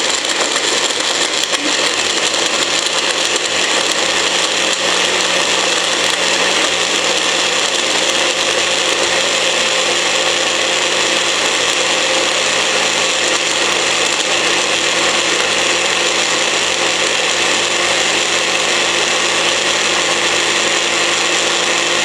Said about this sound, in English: Blend for a decent amount of time